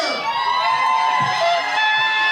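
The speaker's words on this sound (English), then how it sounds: "The crowd is already anticipating Big Nasty" Crowd at a wrestling event cheers and whoops throughout, a dense, steady wash of many voices with a few shouts rising above it.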